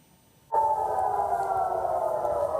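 A steady, loud air raid siren in Israel during an Iranian missile attack rises abruptly and holds, droning on continuously without pause; no voices.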